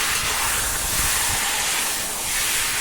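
Chicken being stir-fried in a kadai gives off a close, continuous hissing sizzle with soft surges as it is stirred.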